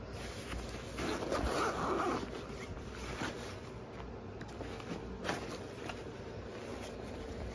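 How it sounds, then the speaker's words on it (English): Zippers on a KotaUL travel pack from Outdoor Vitals are pulled open and shut in several quick, close rasping strokes, with soft handling rustle between them. "it's just so nice to be able to have these zippers that are so easy to use"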